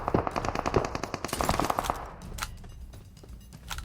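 Rapid bursts of automatic gunfire in the video game PUBG Mobile crackle in quick succession, loud at first and then tapering into scattered, more distant shots.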